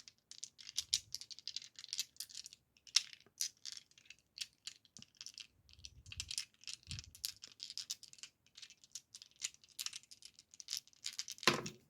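Hard plastic dice for Dungeons & Dragons rattle and tap against each other in quick clattering bursts, close and fairly quiet, with no talking.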